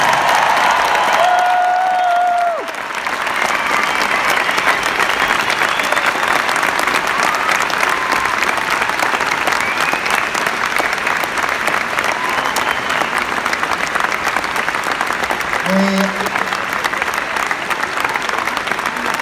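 A crowd at the Crufts dog show arena gives a loud, sustained burst of applause and cheering that fills the hall for many seconds, after a brief announcer's voice at the start.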